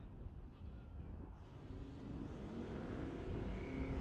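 Le Mans drag car, nicknamed Timmy Two Turbos, launching and accelerating down a drag strip at a Tulsa raceway, a steady loud engine roar building in intensity over a few seconds with no talk.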